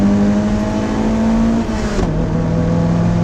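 A 1988 Toyota MR2 accelerates hard in third gear on a road-race straightaway, a loud, close engine drone whose pitch climbs steadily, drops briefly at a shift, then pulls on at a lower pitch.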